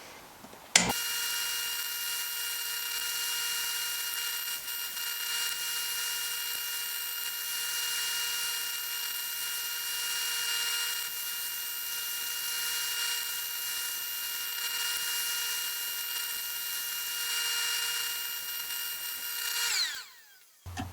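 A knife backspacer part being machined gives off a steady, loud high-pitched whine with constant tonal harmonics, running almost without a break for about nineteen seconds before it abruptly stops.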